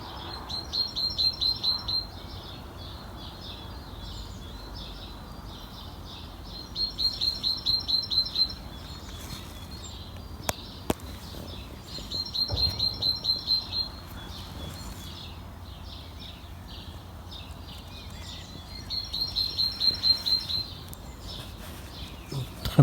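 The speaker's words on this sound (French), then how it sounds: "je suis réveillé par le peuple de l'air. C'est bourré d'oiseaux, c'est magnifique." Bursts of bright bird chirping at dawn come in repeated clusters every few seconds over a quiet background, with a sharp click or two between.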